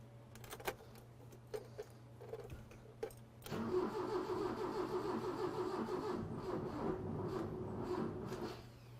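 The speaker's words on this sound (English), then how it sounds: "let's see how this thing cold starts" A 1983 BMW 320i E21 cranks with a few uneven clicks and turns, then catches and settles into a steady, fairly close idle with a mid-pitched engine hum.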